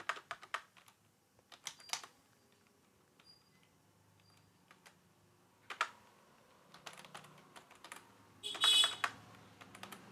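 Keystrokes on a computer keyboard while editing Python code, tapping in short clustered bursts with pauses between, fairly close and moderately quiet, with no talking.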